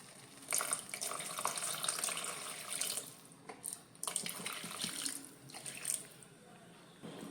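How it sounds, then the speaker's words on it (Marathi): Hot water poured into egg masala in a home kitchen gives several separate bursts of splashing, each a second or two long with short pauses between, fairly quiet and with no voices. "आता मी इथून परत गरम उदक घालून घ्या"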